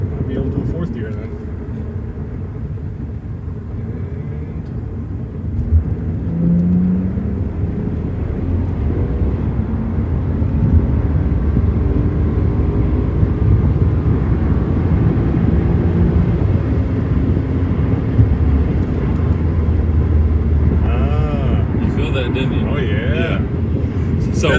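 A BMW F10 535i pulls hard through the gears on a road drive, its engine a steady droning rumble heard from the cabin under wind noise, with a person talking over it.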